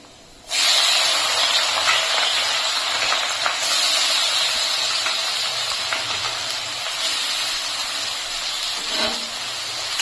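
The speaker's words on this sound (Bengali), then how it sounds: "ফোড়নটা ভালো করে ফুটে গেলে তারপর আমি দিয়ে দিচ্ছি এখন পেঁয়াজ কুচি।" Chopped onion drops into hot oil tempered with bay leaf, cumin and whole garam masala, bursting into a loud, sustained frying hiss that stays steady and close.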